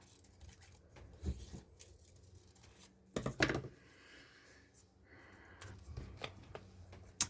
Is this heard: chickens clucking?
no